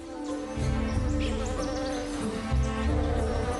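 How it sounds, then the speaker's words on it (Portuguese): Steady droning buzz of orchid bees hovering close by in Colombia, a continuous hum with slight swells in pitch and loudness, no voices. "Atraindo machos de abelhas das orquídeas"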